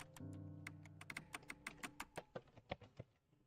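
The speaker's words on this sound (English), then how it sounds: "we're gonna once again face roll the keyboard for it" A computer keyboard mashed to type a password, a burst of rapid, uneven clacking keystrokes, close and quiet, about a dozen distinct hits tapering off over a few seconds.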